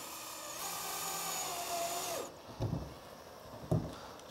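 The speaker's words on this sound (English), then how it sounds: "I'll just take the screw, put it over the top of the torch for a couple seconds, get it warm, and then screw it in." A screw heated over a torch is driven into fabric with a power driver, a steady whirring drone for about two seconds, then two short bumps and knocks.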